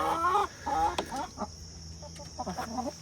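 A hen clucks and makes drawn-out calls near chicken nesting boxes, close and clear with short pauses between phrases.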